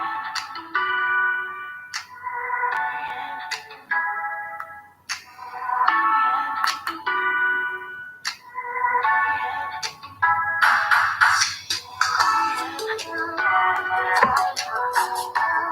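A mobile phone ringtone plays a repeating electronic melody in short bursts for the full stretch, fairly loud and close, with faint handling noise and no speech over it.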